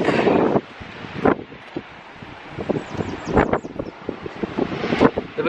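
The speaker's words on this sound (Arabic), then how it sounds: "دابا كاين الريح بزاف" Gusts of wind buffet the microphone in loud, uneven bursts, with rustling in between and no one speaking.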